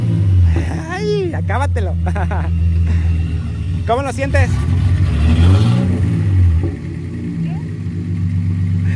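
A car fitted with a swapped R32 3.2 engine drones loud and steady at close range, swelling briefly around the middle, while people talk over it throughout.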